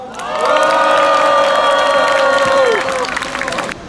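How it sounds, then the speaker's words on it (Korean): A large outdoor rally crowd, gathered to urge a statue for forced-labor workers, lets out a loud sustained cheer with shouts and whoops and scattered clapping, then cuts off abruptly. "여러분들의 뜨거운 함성으로 시작하겠습니다"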